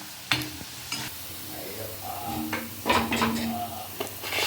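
Onion pakoda frying in hot oil with a soft sizzle beneath a few sharp clinks and scrapes of a utensil against the pan, all close by with no voices.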